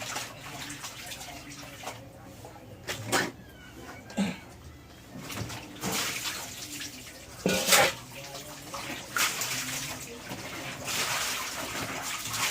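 Laundry washed by hand, with intermittent splashing, swishing and sloshing of water in bursts, separated by quieter gaps, close by, with faint background sounds.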